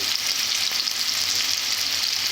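Crab curry with potatoes fries in a pan, giving a steady, dense sizzle that holds close and even for the whole stretch, with no voices.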